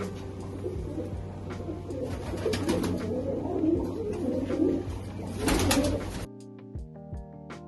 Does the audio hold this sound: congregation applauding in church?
no